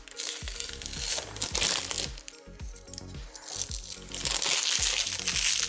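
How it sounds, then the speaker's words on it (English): Protective plastic wrapping is peeled and crumpled off a new Ninja Creami NC301 frozen treat maker, giving a close, continuous crinkling and crackling with repeated sharp rustles and no talk. "let's take some of this plastic off here"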